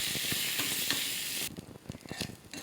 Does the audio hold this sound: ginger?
yes